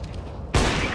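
A sudden loud burst of gunfire from a video game erupts midway, a dense sustained volley following a quieter stretch of low background rumble.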